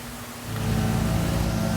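A BMW S65 engine catches and settles into a steady, even hum after a short quiet moment, running on without any voices.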